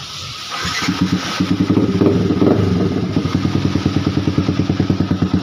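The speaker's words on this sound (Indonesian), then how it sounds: "sekarang kita akan lakukan untuk proses hidupkan motor kembali" A Yamaha R15 V3 motorcycle engine, which had been cutting out and sputtering, cranks and catches, then settles into a loud, rhythmic idle with a steady chugging pulse, close up.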